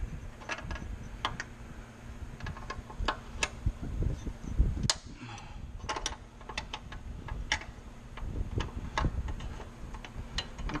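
A 3/8 brake line fitting on a Jeep Grand Cherokee WJ is worked loose with a wrench, giving a series of sharp metallic ticks and clicks, irregular and fairly close, with a few louder clanks partway through and no talking.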